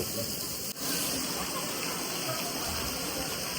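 Water falls from above at a crowded temple site during a Navratri festival, a dense continuous rushing hiss that stays loud and near throughout the short stretch, with a brief dip near the start.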